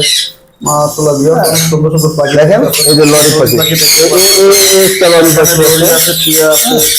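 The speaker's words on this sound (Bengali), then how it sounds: "এখানে আমাদের সাদা কালারের টিয়া পাখি আছে ব্লু কালারের টিয়া পাখি আছে" Parrots and lories at a large bird farm squawk and screech loudly and continuously, many shrill calls overlapping close by, with someone talking over the din.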